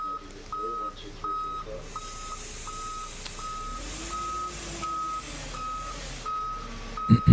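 A concrete truck reversing, its backup alarm beeping in a steady evenly spaced series over low engine rumble, with a couple of louder knocks at the end.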